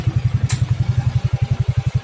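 A motorcycle engine idles at a standstill to warm up, a close, loud, even putter of rapid regular beats with a single sharp click partway through.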